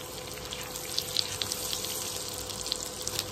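Cumin seeds sizzling in hot butter and oil in a pan, a soft continuous hiss with small crackling pops, faint and close.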